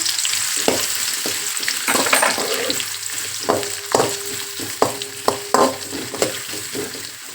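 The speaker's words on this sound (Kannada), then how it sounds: "ನಾನೀಗ ಬಾಣಲಿಗೆ ಮೂರಿಂದ ನಾಲ್ಕು ಚಮಚ ಎಣ್ಣೆ ಹಾಕ್ಕೊಂಡಿದ್ದೀನಿ ಈಗ ಮೊದಲನೇದಾಗಿ ಬೆಳ್ಳುಳ್ಳಿ ಹಾಕೋಣ ಬೆಳ್ಳುಳ್ಳಿ ಸ್ವಲ್ಪ ಹಾಕಿದಂಗೆ ಈರುಳ್ಳಿ ಹಾಕೋಬೇಕು" Garlic and then onion frying in a few spoons of oil in a pan for a fish sambar, with a steady sizzle and several sharp stirring and scraping clatters, close and alone without speech.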